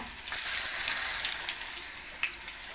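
Raw plantain pieces frying in hot oil over a medium flame give a steady, close, hissing sizzle with crackling bubbles, continuous and alone without talk.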